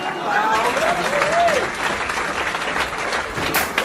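A variety-show audience breaks into strong, continuous applause, with a brief voice rising over the clapping early on and crowd noise holding steady to the end.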